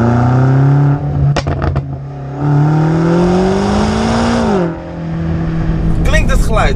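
BMW M5 Competition engine and exhaust rumbling loud and close, revs climbing steadily then dropping, with sharp crackles and pops between, alone without talk.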